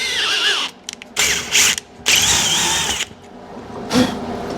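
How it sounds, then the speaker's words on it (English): A power drill bores holes for a 1/4 inch tap while a worn Ferguson TEA20 tractor linkage is being repaired: several short bursts of whining, grinding drilling, close and loud, broken by brief pauses and ratcheting clicks. "I'm just drilling these for a 1/4 tap"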